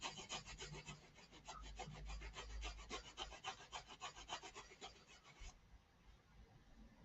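Rapid back-and-forth rubbing on a model bridge abutment to weather it, a quick rhythmic scraping of about five strokes per second that is faint and close, then stops abruptly near the end.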